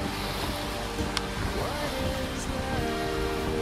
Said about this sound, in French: Il y a du vent